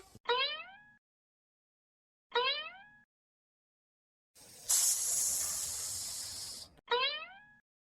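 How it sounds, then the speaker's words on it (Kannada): In a cartoon, a tempering is added to boiling saaru and gives a loud, bright sizzling hiss lasting about two seconds. Short springy chirps come before and after it. "ಈಗ ಲಾಸ್ಟಿಗೆ ಒಗ್ಗರಣೆಗೆ ಹಾಕಿದ್ದೀನಿ"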